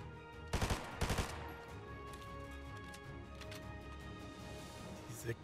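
Two sharp sniper rifle shots crack out in quick succession in a Fortnite match, each loud with a short ringing tail, followed by a few seconds of low in-game ambience and a faint final pop.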